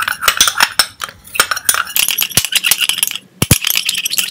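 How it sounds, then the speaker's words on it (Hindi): A lemon juice and olive oil facial mixture being stirred in a small dish, with quick bright clinks and rattles of a spoon against the container coming in rapid, uneven bursts, close and alone. "सब चीज़ों को मिक्स करेंगे।"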